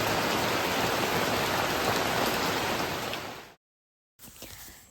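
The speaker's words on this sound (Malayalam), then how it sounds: "വൈകുന്നേരമൊക്കെ ഇവിടെ നല്ല മഴ തുടങ്ങി കേട്ടോ." Heavy evening rain falls steadily at a home in Kerala, a thick, close hiss for several seconds before a sudden cut to silence, then a fainter, thinner patter returns.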